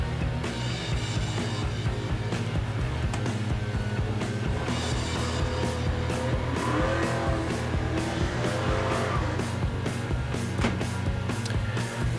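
Race cars at Seekonk Speedway during spectator drag racing roar steadily into turns one and two, a dense continuous engine drone with sharp bursts on top, heard from trackside.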